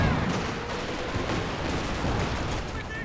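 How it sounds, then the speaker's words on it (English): Katyusha rocket artillery firing in Company of Heroes 2, a dense, continuous crackle of launches and blasts held at a steady loud level throughout, with battle noise layered over it. "There's Katyusha out the back, going after the ISG."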